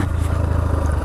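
A motorcycle being ridden, with a loud, close, steady engine rumble that runs through the brief moment alone.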